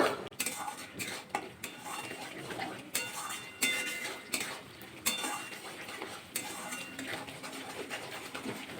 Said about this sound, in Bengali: মশলাটা ভালো করে নাড়াচাড়া করে একটু কষিয়ে নেবো এক মিনিট মতো